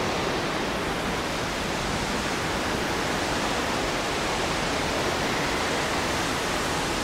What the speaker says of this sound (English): There's the fan right there.